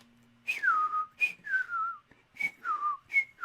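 Whistled, bird-like calls in a repeating pattern, each a sharp upward-onset note sliding downward, five or six phrases in steady succession, fairly close and clear against a quiet background.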